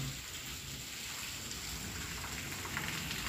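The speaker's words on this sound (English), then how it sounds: "Listen, you can probably hear the rain." Faint, steady hiss of heavy rain from Hurricane Pamela pouring outside at night in Mazatlán, a continuous wash of sound with no voices.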